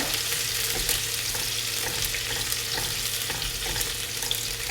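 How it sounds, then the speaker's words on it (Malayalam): Onions sauté in oil in a pan for chicken machboos, giving a steady, close sizzle with faint stirring scrapes throughout. "ആദ്യം നമ്മൾ എണ്ണ ഒഴിച്ചതിന് ശേഷം സവാള ഇട്ട് കൊടുത്തിട്ടുണ്ട് നന്നായിട്ട് വഴറ്റുക"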